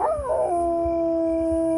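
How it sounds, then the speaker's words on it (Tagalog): Dogs howling at night in an audio drama: a loud, close howl rises and bends before settling into a sustained, steady tone, with a low rhythmic throb beneath and no talk. "biglang nangibabaw ang alulong ng mga aso"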